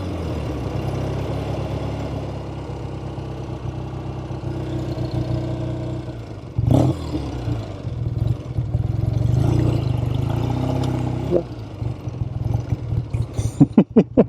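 Loud, close engine drone from a 1970 Triumph TR6 Tiger motorcycle being ridden, rising and falling through gear changes and throttle shifts, with a sharp thump midway and a series of quick clattering pops near the end.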